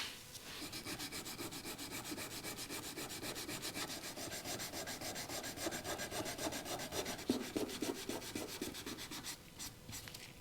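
Coarse 120-grit sandpaper worked over chipped powder coat on a Triumph Scrambler motorcycle cam cover, producing a steady, close, continuous rasping scrub with rapid back-and-forth strokes and no pauses.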